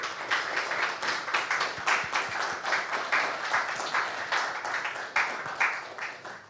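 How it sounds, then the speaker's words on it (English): Applause from a conference audience at a JuliaCon programming talk, dense steady clapping with many individual claps audible, sustained throughout at moderate level with no talk over it. "let's give our speaker a round of applause"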